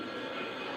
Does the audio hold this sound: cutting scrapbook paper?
no